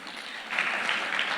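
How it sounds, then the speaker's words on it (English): Conference audience applauds a government minister, a brief burst of many hands clapping that swells louder halfway through and stays dense to the end. "Please, another round of applause."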